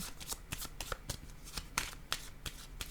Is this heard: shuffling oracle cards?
yes